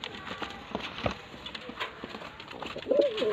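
Male white-eyed pigeon cooing softly among other birds, a low murmuring coo rising near the end over faint background rustle and occasional thumps.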